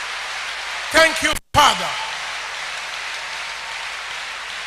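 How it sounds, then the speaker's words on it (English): A church congregation claps during a service, a steady, even wash of applause that runs throughout, broken briefly near the start by someone speaking. "Thank you for that spontaneous clapping to the great God of Tuesday."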